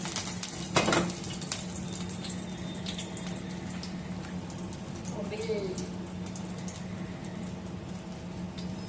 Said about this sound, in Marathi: मस्त फ्राय करून घेऊयात आता तेलावरती